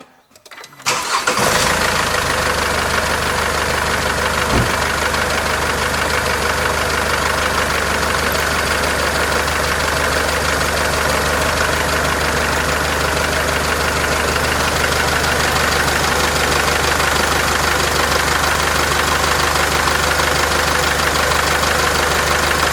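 Car engine with a leaking radiator hose cranks briefly, catches and settles into a steady, loud, even idle that runs unbroken to the end.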